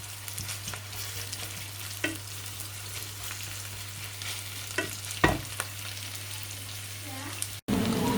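Onions fry in oil in a pot for borscht soup, giving a steady, soft sizzle with occasional scraping stirs and a low constant hum underneath.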